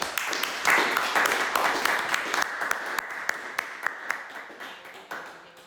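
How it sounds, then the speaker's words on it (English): An audience gives warm applause for Krista at a performing arts series concert, a dense burst of clapping that gradually thins to scattered individual claps, with a voice or two faintly heard beneath. "warm round of applause, everyone, for Krista"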